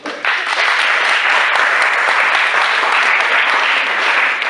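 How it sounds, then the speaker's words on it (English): Loud, sustained audience applause at an Indian evening event, a dense wall of clapping that starts abruptly and keeps going strong to the end, close and unbroken. "Please give yourself, to me, to everybody, a big applause."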